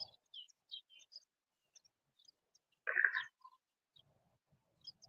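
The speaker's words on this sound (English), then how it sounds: "There's some birds. They're chirping at your birds now." Small birds chirp outdoors in short, scattered tweets at a distance, faint against near silence, with one louder, brighter burst of calling in the middle.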